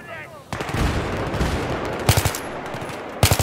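Loud, close bursts of automatic gunfire in the video game Battlefield 3, heavy volleys and single cracks overlapping in a dense firefight, with a brief voice just before the shooting starts.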